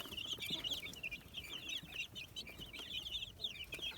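Young white Leghorn chickens from Czech eggs, kept in a cage, peep and cluck continuously in a busy overlapping chorus, close by and fairly loud, with no talk.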